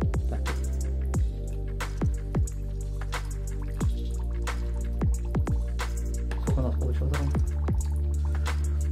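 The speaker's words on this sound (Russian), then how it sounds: "200 граммам безводного ацетата натрия добавим 140 грамм дистиллированной воды" Distilled water is added to anhydrous sodium acetate, giving a series of distinct drips and squishy liquid plops at irregular intervals, close and fairly loud.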